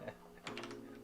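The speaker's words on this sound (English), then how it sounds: "I don't know if you can see me typing it out." Fingers tap quickly on a computer keyboard, a faint run of soft clicks that grows a little busier partway through, with no voices over it.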